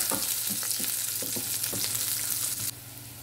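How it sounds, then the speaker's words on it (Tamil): Chopped onions sizzle and crackle in a hot pan for lentil curry, with repeated scraping stirs at a steady rhythm; the sizzle drops off sharply near the end. "இதை இப்போ வதக்கி விட்டுக்கலாம்."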